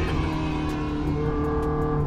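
Ferrari F430 V8 engine holding a steady rev, a loud close buzzing drone with a sustained whine and a slight rise toward the end, no talking.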